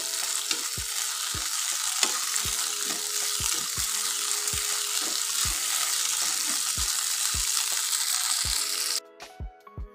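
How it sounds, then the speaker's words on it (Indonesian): Chillies sauté in leftover peanut frying oil with a steady, loud sizzle, punctuated by regular scraping stirs about twice a second, before the hiss suddenly drops away near the end. "sisa minyaknya saya pakai untuk menumis cabenya ya teman-teman"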